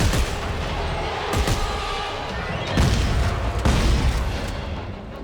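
Shotgun blasts against necromorphs in Dead Space 3, several heavy booming shots at irregular intervals over a rumbling in-game background, with no talking.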